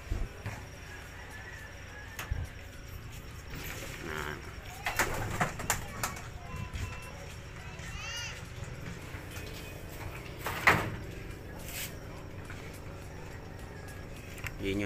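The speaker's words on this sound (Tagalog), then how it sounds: "Yung mga ibon natin." Young pigeons cooing softly at close range, with occasional wing flaps and rustling over faint background traffic, and brief talk in places.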